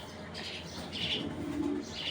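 Silver-black checker racing pigeons coo softly in a low, murmuring run, with a few faint chirps and light fluttering close by in a quiet room.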